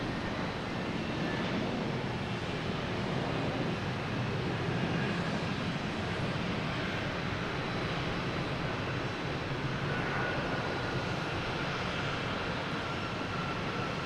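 Airliner landing on runway 4 left at Boston Logan Airport, close by, heard as a steady broadband engine roar that holds loud throughout without voices.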